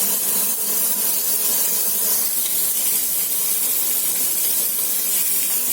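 Artichokes browning in a hot pan give a steady, loud sizzle and hiss that holds evenly throughout, close by and unbroken, with no voices.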